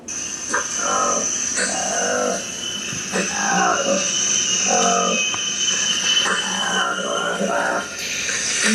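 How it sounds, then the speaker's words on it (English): Repeated loud, harsh calls of a colobus monkey echo through a forest, rising and falling in bursts over a steady buzz of insects, with no talking. "That is the sound of a new species of monkey"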